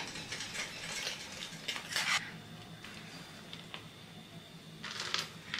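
A spoon stirs finely chopped cashews, almonds and pistachios into milk in a metal pan, giving soft clinks and scraping bursts at an uneven pace, close and fairly quiet.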